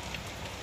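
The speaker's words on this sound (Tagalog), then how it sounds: "pag ganitong malakas ang ulan" Heavy rain falling outside a hut, a dense, steady hiss of rainfall with no pauses, fairly faint and alone.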